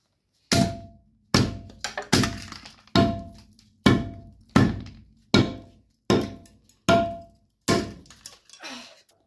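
Pickaxe smashing headphones in a crash test, about ten heavy thuds with a cracking edge landing at a steady pace roughly every second, close and loud with no talk.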